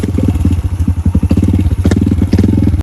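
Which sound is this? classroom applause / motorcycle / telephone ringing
motorcycle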